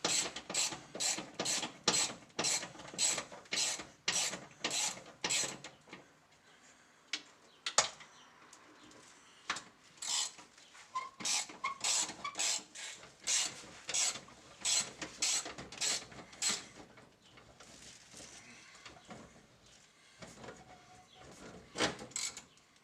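A ratchet wrench loosening half-inch bolts on the steering column clamp of a 1965 Ford F100 pickup: quiet, crisp bursts of rapid clicking, repeated in several runs with short pauses between, close and alone.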